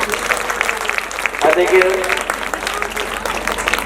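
An audience at a Bhagavat Katha in Raja Kheri village, Panipat, claps in a steady, dense patter that runs under a man's continuous speech.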